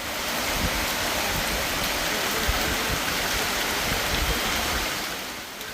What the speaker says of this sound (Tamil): மாலையில் வாணியம்பாடி, ஆம்பூர், ஜோலார்பேட்டை உள்ளிட்ட பகுதிகளில் பரவலாக மழை பெய்தது